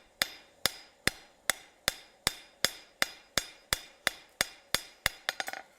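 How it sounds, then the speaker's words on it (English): Blacksmith's hammer striking hot metal with its flat face, dressing out earlier blows on a forged piece: about fifteen sharp, ringing blows at a steady near-regular rhythm, ending in a quick rattling flurry of lighter taps. "Now I'm going to use the flat of the hammer"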